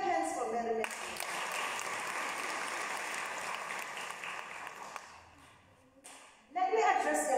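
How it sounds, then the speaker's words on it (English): A cathedral congregation claps for Mary Magdalene during an Anglican service: sustained applause for about five seconds that then fades out, with a preacher's voice before and after. "Clap hands for Mary Magdalene."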